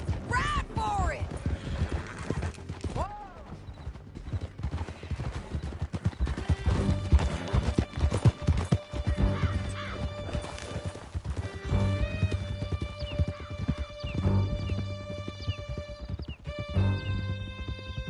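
Horses gallop in the Red Dead Redemption video game, with steady clip-clop hoofbeats, whinnies and loud crashes under a busy game soundtrack, while voices shout over the ride.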